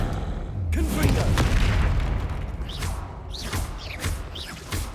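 Booming blasts of the Confringo fire spell in the video game Hogwarts Legacy, one heavy thud followed by a run of sharper, crackling impacts, loud and close, with short bursts of voice between them.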